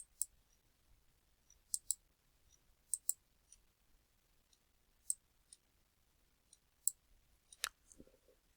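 Sharp, faint computer mouse clicks come one or two at a time in an irregular rhythm, close by in an otherwise quiet room.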